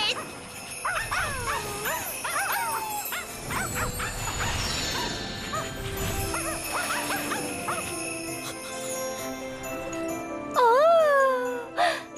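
Dogs bark and yip amid jingling and lively commotion, with a high whining cry standing out near the end.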